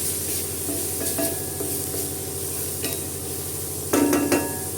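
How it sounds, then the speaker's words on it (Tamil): A spoon stirs grated coconut through an agathi flower stir-fry in a hot pan, scraping and turning at a steady pace over a continuous low sizzle, with a louder scrape near the end. "கொஞ்சமாக தேங்காய் போட்டு ஒரு நிமிஷம் கிளறி விட்டால் போதும்"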